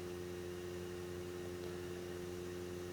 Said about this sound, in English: that is the noise you get pretty much consistently when playing a 4K Blu-ray on the Xbox